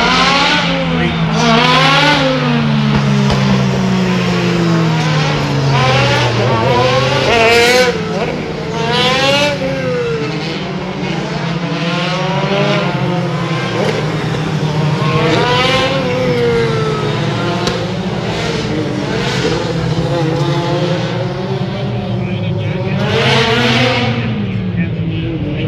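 Race cars scream past on a track, with engine notes rising and falling as they accelerate and shift through the gears, loud and continuous, while a commentator talks over the engines.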